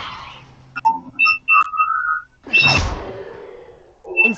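Levioso levitation spell cast in Hogwarts Legacy: a run of bright chiming, whistle-like tones followed by a surging magical whoosh, then a short chime at the end. No talking.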